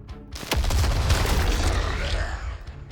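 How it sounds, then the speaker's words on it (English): In the video game The Last Spell, an explosion hits with a sharp boom that swells into a heavy, rumbling roar, then fades slowly over a few seconds. "Now that I think about it, this is a pretty good explosion."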